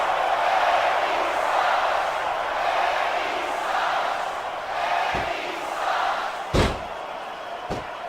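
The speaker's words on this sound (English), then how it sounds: "Wow, listen to that chant, Taz." Arena crowd chanting in the wrestling video game Smackdown vs Raw 2006, a broad swelling roar of many voices with rhythmic surges, and a few sharp slams or impacts cutting through near the end.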